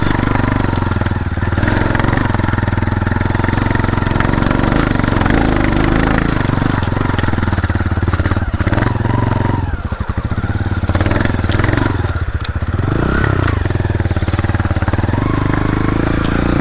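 A Tenaci Wong trials motorcycle engine labors steadily up a rough mountain hiking trail, loud and close throughout with fluctuating revs and occasional clattering.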